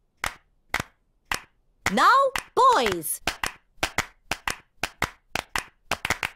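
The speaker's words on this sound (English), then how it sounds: "If you can clap, you can make music." Children clapping hands in a cartoon music lesson, a series of sharp, evenly spaced claps with a short burst of spoken voice in the middle.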